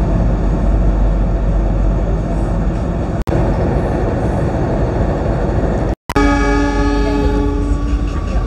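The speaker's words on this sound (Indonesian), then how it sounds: "Jayabaya kembali diberangkatkan dari stasiun Bangil" The Jayabaya economy train pulls out of Bangil station, its loud rumble filling the scene before a long, steady horn blast sounds close by. No one speaks.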